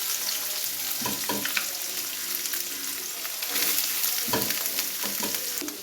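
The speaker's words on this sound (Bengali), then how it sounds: "দেখো কড়াইয়ে তেল দিয়েছি, এবার সয়াবিনগুলো একটু হালকা করে ভেজে নেব" Soybean chunks fry in oil in a kadai, giving a steady close sizzle broken by a few scraping stirs, with no talk.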